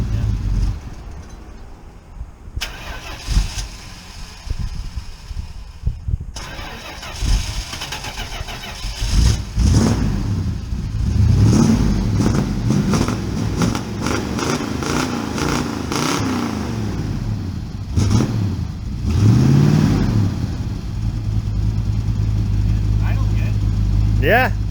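A 1969 Dodge Charger's engine is started and revved, rough bursts rising and falling over a loud idling rumble, with voices talking over it in places.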